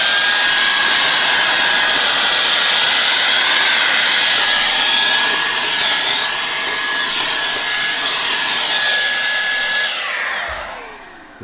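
Posh Hoover vacuum cleaner running loud and close while cleaning out the engine bay of a Hyundai Santa Fe CRDI, a steady high whine with shifting airflow that winds down at the end.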